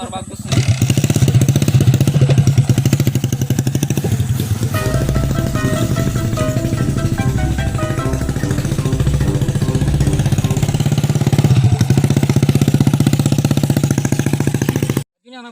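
A motorcycle engine idles up close with a steady, continuous rumble through the whole stretch, and people talk over it.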